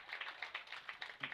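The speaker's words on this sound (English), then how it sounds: "everyone applauds the umpire here." A crowd at a high school baseball game applauds the umpire, a faint, distant patter of quick, overlapping claps lasting about a second.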